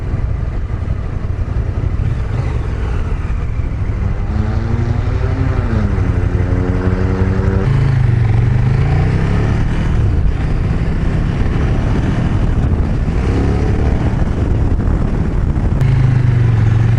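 KTM 1290 Super Duke GT motorcycle engine running steadily while riding in street mode, a continuous loud drone with wind rush and shifting engine tones as the bike changes speed.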